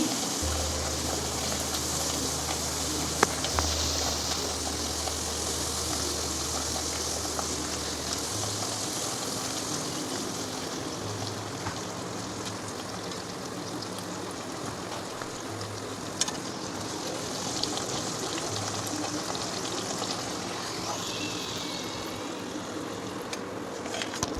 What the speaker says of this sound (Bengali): কচুরি দিয়ে দিলাম দেখো কচুরি ভাজি